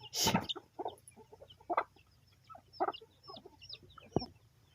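Several chickens cluck in short, irregular bursts close by, with a louder squawk at the start and scattered soft clucks and chirps afterward.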